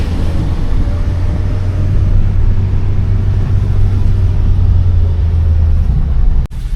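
A car rolls over a bumpy, narrow, steep road near a lake in Bali, with a loud, steady, close low rumble of engine and tyres that holds throughout and ends with a brief jolt.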